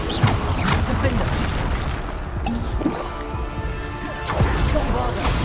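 Bombarda explosion spells cast in Hogwarts Legacy, loud booming blasts with crashing debris in a dense, continuous battle din, several bursts in quick succession under a voice.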